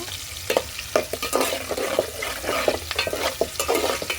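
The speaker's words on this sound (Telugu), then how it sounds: "అందుకని ఉన్నాడుతోనే తాలింపు వేసుకుంటున్నాను" A pan of tempering for toor dal with amaranth leaves fries over a wood-fired hearth, its soft hiss punctuated by quick, irregular stirring scrapes and taps, close up and moderately quiet.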